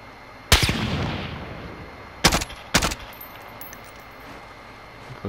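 Gunshots ring out in the Call of Duty: Modern Warfare video game: one loud burst, then two quick close shots a moment later, each crisp and echoing over a low ambient hum.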